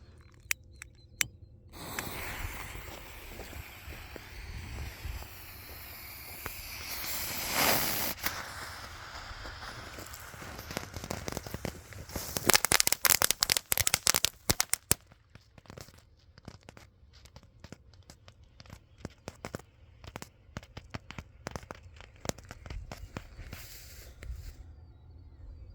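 A Sky-Hawk firework tank with report hisses and sputters, building to a cluster of sharp crackling pops and reports, then fading into scattered small crackles.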